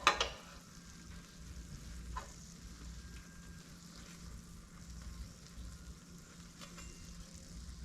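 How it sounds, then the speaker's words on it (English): Apple hand pies fry in hot grease, giving a low continuous bubbling sizzle that is fairly faint and steady, with an occasional clack near the start and a couple of small pops. "Be careful when you're cooking them because you can get burnt with this grease sloshing out on you"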